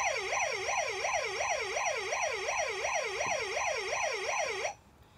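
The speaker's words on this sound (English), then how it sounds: "So while the sirens are going off, the lights turn on like this." A toy Hess truck plays an electronic siren, a rapid, regular wailing sweep that goes on for almost five seconds and then cuts off abruptly, leaving faint background noise.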